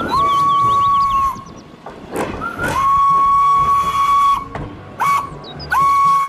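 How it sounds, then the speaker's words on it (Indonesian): A Thomas toy train whistle sounds several times, long steady toots and shorter blasts, loud and close, with brief clattering noises in between. "Wow, lihat teman-teman, di sini ada kereta Thomas"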